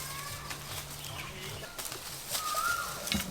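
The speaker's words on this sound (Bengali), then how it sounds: "কত কোকিল ডাকছে শুনতে পাচ্ছেন?" Cuckoos sound in a garden as faint, distant birdcalls: a brief whistled note near the end, some thin high chirps, and a soft outdoor background hiss.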